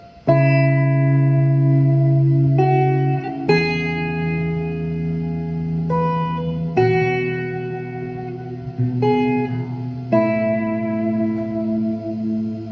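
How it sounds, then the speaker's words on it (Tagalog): Electric guitar through a Boss ME-20 effects unit on its swell reverb setting, several sustained notes and chords blooming in softly and ringing out with long, washy reverb tails, loud and alone with no talk. "So si swell kasi mas manipis na siya compared sa mga ibang settings ng reverb niya"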